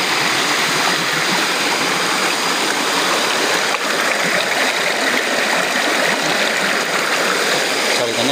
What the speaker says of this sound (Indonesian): Ini sumber airnya di sini ya.